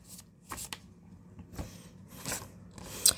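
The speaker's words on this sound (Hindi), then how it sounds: "Last shuffle." Tarot cards being shuffled in close, quiet bursts of riffling and sliding, with a few short pauses between passes and no talking.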